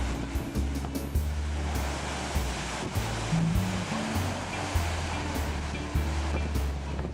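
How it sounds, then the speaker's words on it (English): Sioux Falls waterfall roaring in a steady, dense rush of water, continuous and fairly loud, with faint low rumbles and thumps underneath. "Listen to the mighty falls roar."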